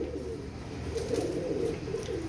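Pigeons cooing nearby, a soft low throaty coo repeating in gentle rolling phrases over a light steady background hum.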